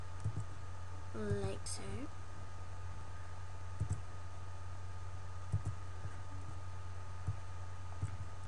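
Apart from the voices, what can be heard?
computer mouse clicking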